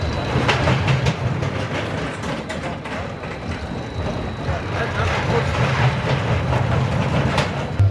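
Roller coaster train (the ArieForce One coaster) rumbling continuously along its track, a steady loud low roar with rhythmic clattering throughout, close by, with riders' voices and shouts mixed in.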